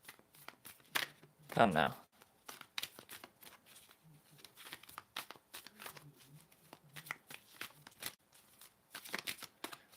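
Tarot cards are shuffled in quick, crisp riffling bursts, loudest in one dense flurry early on, followed by lighter scattered card flicks and taps, with a voice speaking briefly.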